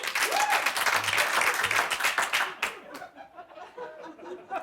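Studio audience at a late-night comedy talk show breaking into applause with some laughter, dense clapping for a couple of seconds that thins into scattered claps and fades, with faint voices underneath.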